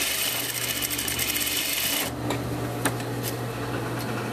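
Sewing machine running a second row of stitches along a thin spaghetti strap, a steady fast mechanical whir with rapid needle ticking, close and continuous, the pitch shifting slightly midway.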